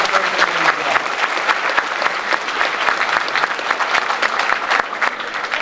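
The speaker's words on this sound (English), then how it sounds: "a round of applause for Jamie" Crowd at an Army gathering gives a soldier a round of applause, a loud, dense, continuous patter of many hands clapping nearby for several seconds, with a faint voice briefly underneath.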